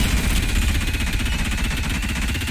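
A steady mechanical whirring drone with a rough, buzzing rattle runs continuously at moderate loudness, like a powered drill spinning: the drill weapon in the video game Ultrakill.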